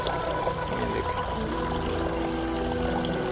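Water pours steadily from a decorative fountain for sale, a continuous close splashing flow with no pauses and little else audible.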